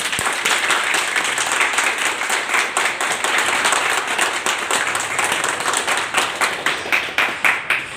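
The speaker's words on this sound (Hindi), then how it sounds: "तो उनके लिए जोरदार ताली होनी चाहिए।" Loud, steady applause from a crowd at a planning meeting in Vatva, many hands clapping continuously for about eight seconds, no voices over it.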